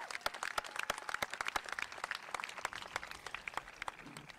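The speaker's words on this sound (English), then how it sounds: "You can clap." Graduation audience at a high school ceremony claps, a dense run of sharp individual hand claps forming moderate, fairly distant applause that lasts throughout without talk.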